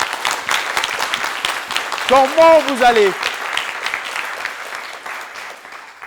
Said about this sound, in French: Merci de vous applaudir bien plus fort, les gars.